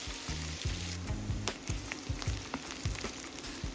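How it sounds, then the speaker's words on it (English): Diced onion sautéing gently in bacon fat in a pan, a soft continuous sizzle broken by regular scraping and stirring strokes, quiet and close. "Add 1 large diced onion straight into that bacon fat and saute it gently until it's soft, golden"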